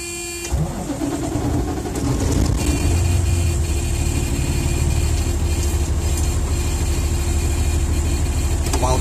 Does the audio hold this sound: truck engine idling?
yes